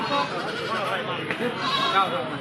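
Goats bleating at a busy goat market near the Bangladesh border, with overlapping calls close by against a dense background of crowd chatter and voices.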